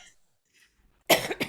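A person with a slight cold lets out a short burst of two close, fairly loud coughs after a near-silent moment.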